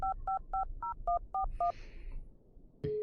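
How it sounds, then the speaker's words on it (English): Seven crisp telephone keypad tones beep in a quick, even sequence inside the video game Darkness Within, followed by a brief pause and then a steady ringback tone, with no voices. "so now we can ring Arthur."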